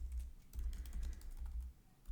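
Computer keyboard typing of a git rebase continue command, a short quick burst of close, soft key clicks in uneven clusters with no speech.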